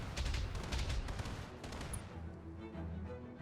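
Machine gun fire from a mech in the BattleTech video game, a rapid burst of heavy shots with deep booming impacts, tapering into a low rumble and ringing tail.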